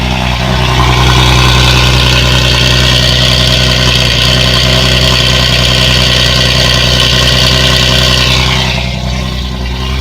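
Loud, steady idle of a Nissan 370Z just after a cold start, a dense, even engine drone close to the listener with a slight shift near the end and no talking.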